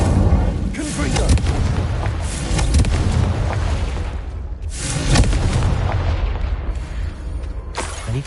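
The Confringo explosive spell goes off in a video game as a series of loud, rumbling blasts and booms that roll continuously, with brief surges around each impact.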